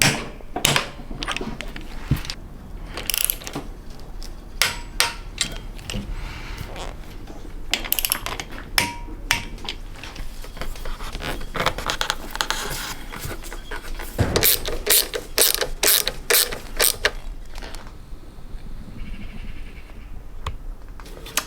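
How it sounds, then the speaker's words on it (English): A torque wrench tightening a steering stem bolt on a 1982 Honda XL 250R motorcycle, rapid ratcheting clicks in irregular bursts with metallic taps, close and clear amid workshop quiet. "I'm going to start with this steering stem bolt, 58 Newton meters on the torque wrench."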